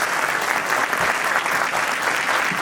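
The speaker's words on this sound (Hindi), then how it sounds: "मैं चाहता हूं एक बार जोरदार तालियां फिर से हो जाए कलाकारों के लिए।" An audience gives loud, sustained applause for the actors after a Hindi stage play, a thick, even wash of many hands clapping with no letup.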